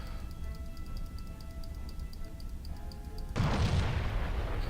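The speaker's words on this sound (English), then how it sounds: "I'm going to wait till to a range of about 4 before I unload photon torpedoes into you" Photon torpedoes fire and explode in the Starfleet Command: Orion Pirates space combat game: a steady pulsing beep over a low rumble, then a sudden loud, sustained blast that stays heavy to the end.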